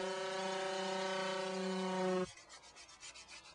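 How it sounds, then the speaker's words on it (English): A power sander with 60 to 80 grit works over a yacht hull's gel coat, a steady loud humming drone that cuts off abruptly, followed by faint scraping and rubbing. "we can give the hull a final going over with a 60 to 80 grit to get rid of the last of the shine"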